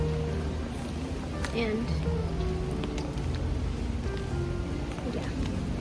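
Rain falls steadily on a street in Japan, a dense even patter that persists throughout, with a voice speaking briefly over it.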